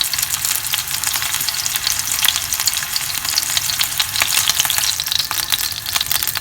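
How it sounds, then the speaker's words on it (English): Chicken kebabs sizzle loudly in a hot pan, a constant close crackle and spit of frying with no talking. "you can hear it sizzling away"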